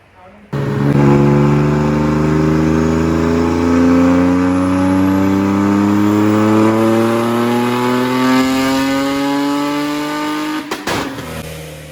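A Nissan 300ZX Z31 2+2, turbocharged and running about 16-17 pounds of boost, revs hard on a dyno in one long continuous pull, its engine note rising steadily in pitch and staying loud throughout before cutting off abruptly near the end.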